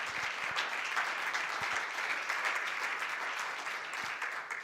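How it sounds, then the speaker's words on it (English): An audience at a panel discussion claps for the panelists, a full, even round of applause lasting the whole stretch without any speech. "I would like all of us to give our panelists a big round of applause"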